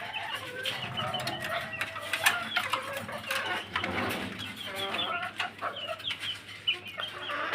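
Guinea fowl and other poultry on a small backyard mini farm give repeated harsh, overlapping calls and clucks, fairly close and busy throughout, with a faint steady hum underneath.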